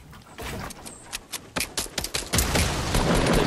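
Opponents' gunfire in Fortnite, scattered shots that build into a dense, loud barrage, with sharp cracks in the middle and heavy continuous fire toward the end.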